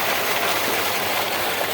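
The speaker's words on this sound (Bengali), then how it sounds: "এই যে মোটর চালু করলাম, 2 মুখ করা হয়েছে।" Brief, even roar of a Liverpool 7.5 hp electric water pump motor running nearby, 4-inch delivery feeding two outlets, its motor drone and water gush merged into one steady wash of noise.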